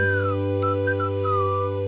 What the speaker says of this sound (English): Slide whistle wails like a runaway train